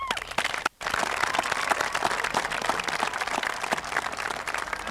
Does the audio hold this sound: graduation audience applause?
yes